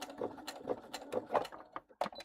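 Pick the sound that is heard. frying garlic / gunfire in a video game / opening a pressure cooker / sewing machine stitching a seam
sewing machine stitching a seam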